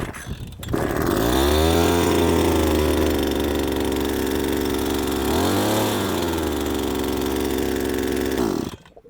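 A farm engine for well work cranks and roars to life, then runs loud and steady for several seconds with a brief dip and rev near the middle before cutting off at the end.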